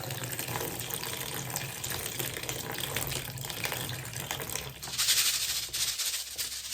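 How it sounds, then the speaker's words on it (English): Water is poured through LECA clay pebbles to rinse them, making a steady gushing, splashing flow like a running tap that goes on for the whole stretch, with no voices. "We just rinse the leca, just like so. Pour it through, just like so."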